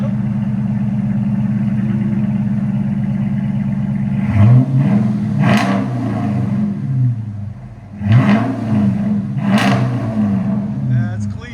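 A Chrysler 300 with a 5.7L V8, NTR race mufflers and rear delete idles with a deep steady rumble, then revs in three loud, rising bursts that fall back to idle.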